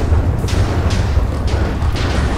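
Minecraft bomb blasts come as a string of deep booming explosions, about four heavy thuds at roughly half-second intervals over a low rumble, loud and close.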